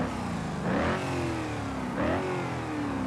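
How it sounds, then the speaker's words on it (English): A car engine with side exhaust pipes in the BeamNG driving game revs hard twice, each rise climbing in pitch then easing back to a loud, raspy idle. "How about side exhaust pipes? That does sound extremely different."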